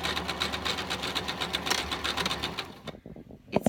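A sewing machine stitches the hood onto a coat neckline, a rapid, steady mechanical whir of the needle running close and loud for nearly three seconds, then stopping, followed by a few soft clicks and handling noises.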